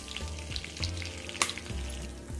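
Cumin and asafoetida sizzling in hot butter and oil in a pan, a close, continuous crackling hiss with small pops and clinks throughout and no talk.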